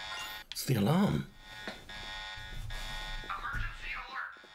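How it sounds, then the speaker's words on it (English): Emergency alarm in the video game Star Ocean 4: The Last Hope, a tonal blaring siren repeating under someone talking over it, with sharper beeping tones near the end. "It's the alarm."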